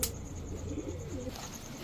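Rajshahi Tiger Giribaz tumbler pigeons coo in a low, soft, continuous rumble close by, with a faint steady tone running underneath.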